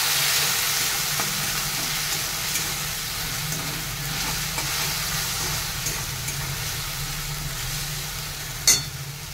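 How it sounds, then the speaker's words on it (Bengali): Cumin powder, chili powder and ginger-garlic paste fry in oil for ghugni, giving a steady, loud, close sizzle with faint stirring scrapes and one brief clink near the end, no voices. "জিরে গুঁড়ো, লঙ্কা গুঁড়ো আর বেটে রাখা আদা রসুন দিয়ে দিলাম। এবার মশলাটা ভালো করে কষে নিতে হবে।"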